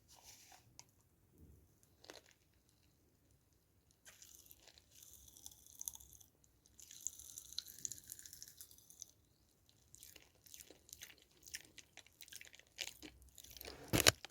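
Someone eats a banana-flavoured chocolate snack, with quiet, close crunching and chewing that comes in scattered bursts between stretches of near silence.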